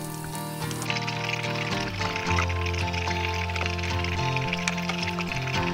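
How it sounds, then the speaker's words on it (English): Water flows into a tank through a newly installed filter, a steady pouring and trickling rush with gurgling bubbles throughout, fairly close and continuous. "I'm gonna put a new filter in and see what kind of water comes in"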